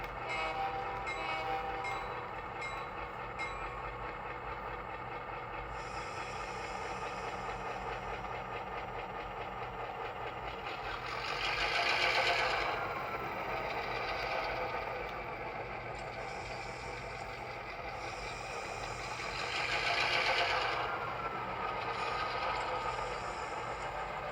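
A steady model locomotive engine rumble from a sound decoder runs throughout, with two long K3 horn blasts swelling up mid-way and near the end, fairly loud and sustained.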